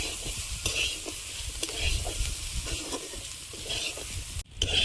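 Bitter gourd leaves and potatoes are stirred in a frying pan, with steady close sizzling and repeated scraping strokes of a spatula, then a brief drop before the hiss rises again.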